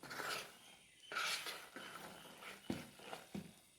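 Risen rice flour vattayappam batter, sweetened with jaggery, being stirred in a bowl. Soft repeated scraping and swishing strokes in an uneven rhythm, close and quiet, with no voices.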